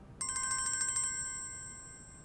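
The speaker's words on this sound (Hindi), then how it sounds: "इस वक्त किसका फोन आ गया?" A phone ringtone chimes in a quiet room, a quick run of about eight bright electronic tones that then hold as one sustained ringing note before fading away.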